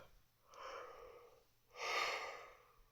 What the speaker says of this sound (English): That was a productive yawn